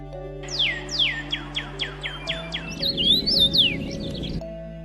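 A bulbul gives a quick run of about ten sharp, descending chirps, then a brighter warbling phrase, heard clearly over soft sustained background music.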